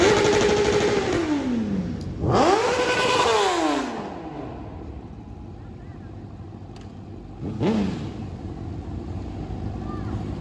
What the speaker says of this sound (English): sitting at the damn red light, revving your engine as loud as you can